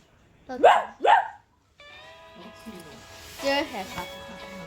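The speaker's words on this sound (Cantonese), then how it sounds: "隔離有隻狗" A dog gives two sharp barks close by, followed by people talking.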